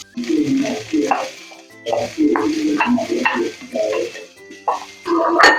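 Onion, ginger, garlic and green chilli sizzle in hot coconut oil under a steady frying hiss, broken by stirring scrapes, while a person talks over it throughout.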